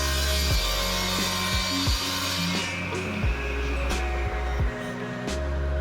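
A tuned table saw rips through a piece of 3/4 inch plywood, a loud steady whine with the blade pitch dropping repeatedly under load as the wood feeds through.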